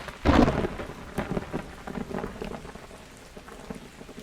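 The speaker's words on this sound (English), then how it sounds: "The rain hammered against her armour and visor." A heavy rainstorm pours steadily in a jungle at night, opening with a loud, close thunder crack that rumbles away beneath the constant hiss and patter of rain.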